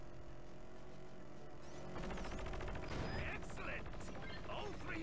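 Explosions and gunfire tear through missile silos in the Battalion Wars video game, a dense rumbling barrage that swells louder after a couple of seconds, with crackling bursts layered over a steady battle din.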